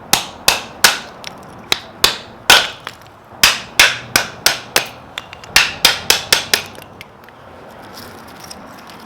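Wood being broken down into kindling for a camp stove: a quick series of about twenty sharp, loud chopping knocks in an uneven rhythm, close by with nothing else around, ending in quiet.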